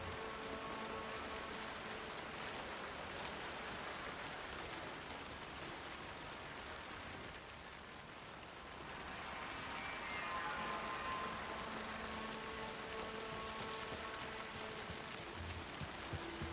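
Rain falls steadily in the Alan Wake 2 video game, a dense hiss of drops across the whole span that dips briefly midway and then resumes.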